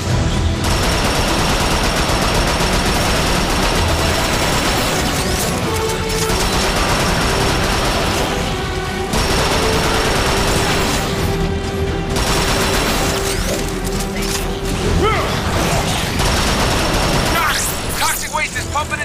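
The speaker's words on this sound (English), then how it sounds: "Let's get the machine gun instead." Machine gun fire in a video game, dense rattling bursts over loud continuous game noise and booms, with talking throughout.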